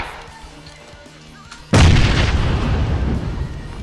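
A grenade goes off in PUBG, a sudden loud close blast after a quieter stretch of ambient game noise, followed by a long, heavy rumbling decay that lingers to the end.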